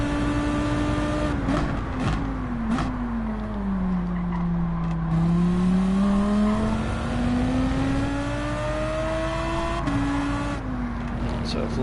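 A GT3 or GT4 race car in Gran Turismo 7 braking and revving, with a steady engine drone whose pitch dips and climbs again, brief clicks of gear changes, and constant close engine noise.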